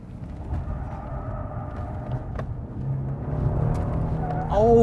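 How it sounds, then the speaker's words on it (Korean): A new Genesis G90 sedan of about 300 horsepower attempts a drift on a drift course: a low, steady engine rumble builds gradually, ending in a brief rising tire squeal. "여기 딱 드리프트 코스인데 잠깐만 드리프트 한번 해볼까?"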